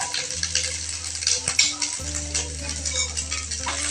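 Rice with egg, onion and oil is stirred and fried in a pan. A steady close sizzle runs under repeated scraping and stirring strokes, with a faint low hum in the background.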